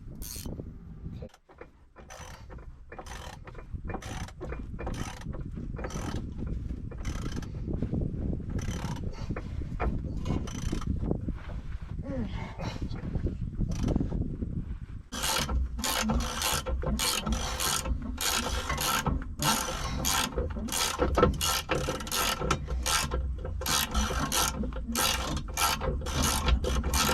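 Ratchet wrench tightening bolts in a farm shop, rapid clicking bursts repeated close up, with a fast regular run of louder clicks in the second half.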